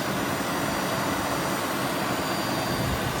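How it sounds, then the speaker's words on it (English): A 2013 Nissan Pathfinder engine idling after a cold start under the open hood, a steady, even hum and whir, close and constant with no talk. "You can hear it running."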